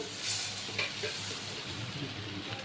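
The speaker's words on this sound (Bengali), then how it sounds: "ভালো করে কিন্তু ফ্রাই করতে হবে এই রাইসটা" Washed, drained rice stirred and frying in a pan with ginger paste and salt for chicken tehari, giving a steady soft sizzle with occasional scraping stirs close by, no voices.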